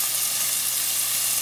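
Bacon sizzling and frying in a pan on the stove, a steady close crackling hiss that holds at an even level throughout with no talking.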